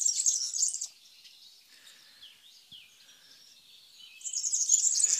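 Bisbous or sura bird calls in two bright, high chirping bursts at the start and end, with quieter, fainter twittering in the gap between.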